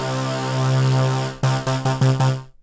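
A Vital synth patch styled after a Prophet 5, with an LFO sweeping a bend on the waveform, holds one loud sustained note and then breaks into five quick staccato stabs before cutting off.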